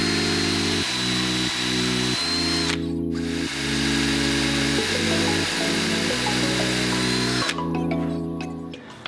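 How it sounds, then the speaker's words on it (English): A power drill whines loudly in several bursts, its motor pitch shifting as it bores dowel holes into wood, with short pauses between runs. "So let's go ahead and drill the holes for that."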